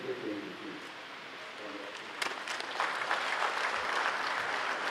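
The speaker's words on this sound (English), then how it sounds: "Round of applause for the Vice-Chancellor" A seated audience at a university investiture ceremony for a new Vice-Chancellor breaks into applause, quiet murmur giving way to a broad, moderately distant wash of clapping that builds and holds.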